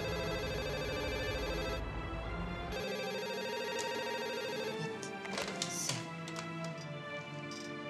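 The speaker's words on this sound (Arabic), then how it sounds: "ثانيه اهو التليفون بيرن" A telephone rings faintly with a steady electronic tone, heard in a quiet room with some soft background noise.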